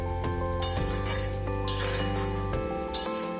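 A spoon scrapes and clinks against a pot while chicken curry with yogurt is stirred, several metallic knocks over a steady background hum, close and moderately quiet.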